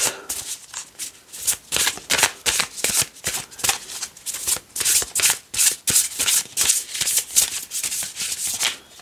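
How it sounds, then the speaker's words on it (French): Tarot cards shuffled by hand for a reading, a steady run of crisp riffling bursts and soft rubbing slides repeating close up throughout, with no voices. "Je vais tirer les cartes."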